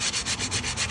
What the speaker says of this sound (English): We're first gonna start off by sanding down the wheel with some 120 grit sanding paper.